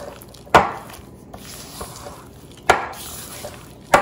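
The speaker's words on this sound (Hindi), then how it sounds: "और इसको मिक्स कर लें अच्छी तरह से।" Chicken pieces being mixed with plain flour and corn flour in a bowl, heard as a few sharp knocks and clanks of utensil on bowl separated by quieter soft, squishy mixing.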